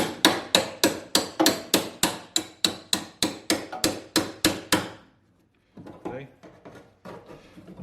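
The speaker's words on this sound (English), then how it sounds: "and then we can just tap it this way" Sharp metallic hammer taps on a spot weld breaker wedged into the floorpan of a Mercedes W108/W109, about fifteen steady, evenly spaced strikes close up, then a pause and faint handling noise.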